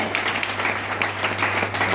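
An audience at a business meeting bursts into dense applause for a senior leader, a steady mass of clapping over a low electrical hum, with no talking.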